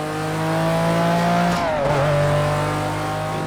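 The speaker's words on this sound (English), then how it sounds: "This thing just blasts through the gears." A race car engine in a racing sim video game holds a high steady whine, dips sharply as it shifts up a gear, then climbs again, loud and close with no talk.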